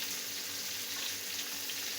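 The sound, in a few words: frying food in a pan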